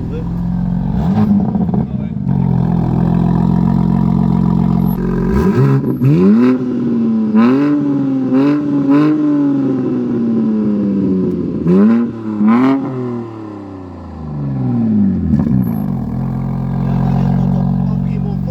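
A stationary BMW M3 Competition with its exhaust valves open and silencer removed is revved in several sharp blips that rise and fall, loud and close, between stretches of idle, with people talking over it.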